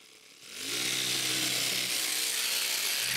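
A power saw cuts through a wooden rafter plank: a loud, steady buzzing whine that starts abruptly, holds at close range for a few seconds, then begins to wind down at the end.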